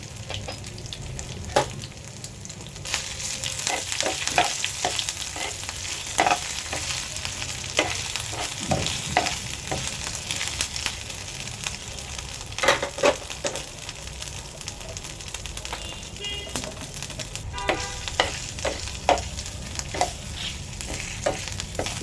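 Ginger garlic paste and dried red chillies frying in hot oil for a grape rasam, a steady close sizzle broken by repeated sharp scraping strokes of a spoon stirring the pan, with no talk.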